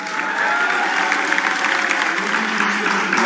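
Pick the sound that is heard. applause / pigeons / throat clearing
applause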